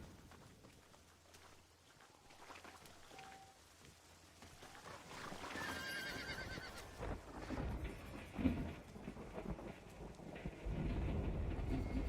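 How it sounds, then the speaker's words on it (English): A horse in the Old West game Red Dead Redemption whinnies, and hooves clop beneath it. A rumbling, rain-like wash grows louder in the second half and buries the hoofbeats. "This horse right here, it's actually, personally, I think it's the best one in the game."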